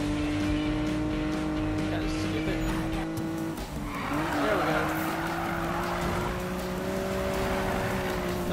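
A car drifts in the Need for Speed video game, with sustained tire squeal over a droning engine and a shift in pitch midway, while a person talks over it.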